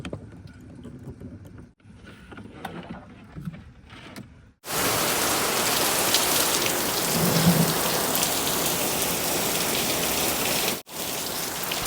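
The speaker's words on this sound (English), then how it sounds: "I'm gonna wait till this rain passes" Heavy rain pours down in a dense, loud hiss that starts abruptly after quieter patter, then holds steady with no voices, as a 2014-2021 Toyota Tundra sits parked outside.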